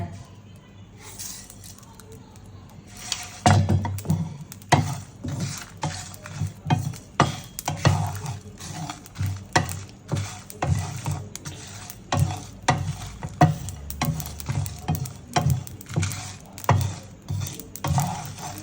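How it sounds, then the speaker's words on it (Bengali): Cumin, coriander and mustard seeds are dry-fried and stirred in a pan, with a quiet start followed by a long run of rhythmic scraping and rattling strokes and a faint sizzle underneath. "জিরা ধনিয়া পরে দেবো, আগে এগুলো ভেজে নিই।"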